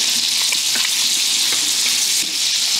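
Meatballs fry loudly in a pan with a dense, steady sizzle, while soft scrapes and light knocks come through as they are gently rolled and turned, close up and continuous, with no voices.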